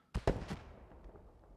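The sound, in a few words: explosion in a squad video game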